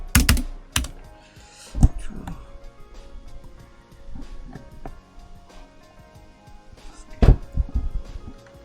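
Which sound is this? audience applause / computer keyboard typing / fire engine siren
computer keyboard typing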